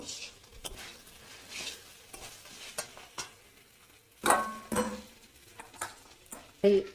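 Jackfruit and prawns sauté in a pan with a splash of water, giving a quiet sizzle under intermittent stirring and a few louder scrapes and clinks of the utensil against the pan.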